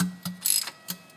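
A ratchet tightens transmission pan bolts in a few short bursts of clicking, close and fairly quiet, with brief gaps between strokes.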